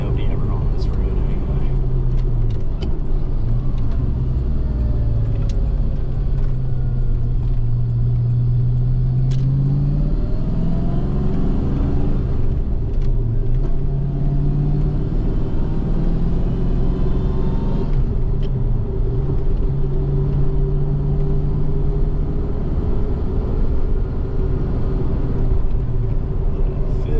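A Ford Fox body Mustang with a 5.0 V8 pulls hard on a quiet road, its deep engine rumble droning loud and constant from inside the car with rising and falling pitch as it accelerates, while someone talks over it.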